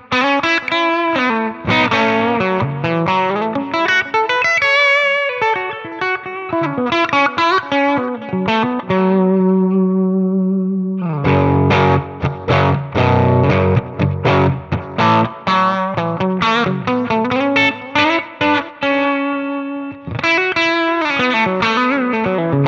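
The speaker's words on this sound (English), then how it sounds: "I also wanted to add a little bit of tape delay here" Electric guitar played through Tonex amp modelling software with tape delay synced to quarter notes, a distorted tone with chords and single-note phrases and audible repeats trailing each note, loud and continuous with no talking.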